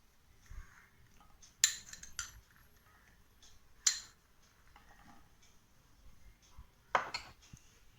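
Fruit salad with pomegranate seeds is stirred in a bowl, and a few sharp utensil clinks and taps sound at irregular intervals over near silence.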